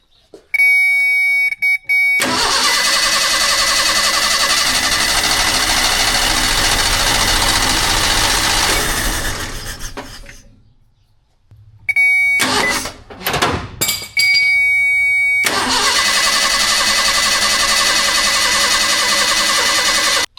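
An old car engine, back on the road after nearly 15 years off it, runs with a loud, rough roar, drops away briefly, then catches and revs with sputtering bursts before settling into a steady loud run.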